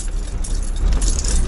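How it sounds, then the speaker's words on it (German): Keys jangle and rattle on a keyring inside a moving BMW E30, a continuous light metallic clinking over steady road and engine rumble throughout. "Übrigens klappert das mal im Schlüsselbund, ne?"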